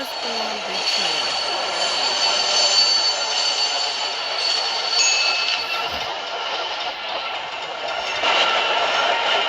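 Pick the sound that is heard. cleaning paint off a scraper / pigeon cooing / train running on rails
train running on rails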